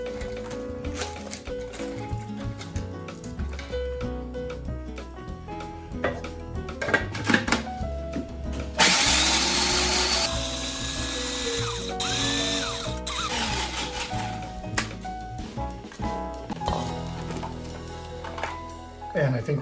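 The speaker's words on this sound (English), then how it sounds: "I'm going to go ahead and put a couple of leaves of matzah into my mini food" A mini food processor grinds a couple of sheets of matzah crackers into crumbs, a loud steady whirring burst in the middle with a clattering buzz, surrounded by kitchen handling and background music.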